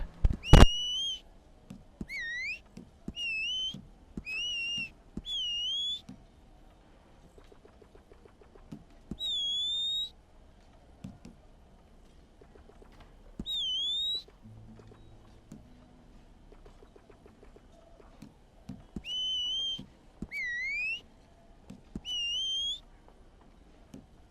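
A female outlaw character in Red Dead Redemption 2 Online whistles in repeated short two-note bursts, clear and bright, in evenly spaced groups with brief pauses, alone over light game ambience.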